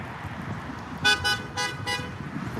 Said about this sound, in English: Somebody honked to me.